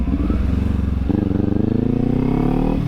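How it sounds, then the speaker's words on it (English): A motorcycle coasting in first gear with the clutch held in, its engine giving a low, steady idling rumble with a faint rhythmic pulse. Near and continuous, with no revving. "shift down to first, and we're gonna hold the clutch in. You see how we're coasting?"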